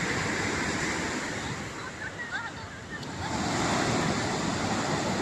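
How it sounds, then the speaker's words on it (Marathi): Sea waves on the beach at Puri wash in as a continuous loud surf roar, swelling again toward the end, with no talk over it. "आणि समुद्राचा आवाज बघा किती मस्त येतो आहे."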